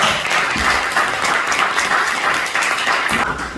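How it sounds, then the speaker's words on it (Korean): An audience of pastors at a Korean Holiness Church prayer meeting in Southern California applauds the visiting general superintendent, sustained, fairly loud clapping that tapers slightly at the end. "우리 허정기 총회장님 방문 박수해 주시기 바랍니다"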